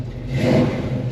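1957 Chevy Bel Air with a 350 V8 and 4-speed revving briefly, a deep rumble swelling and settling over about a second, close and fairly loud.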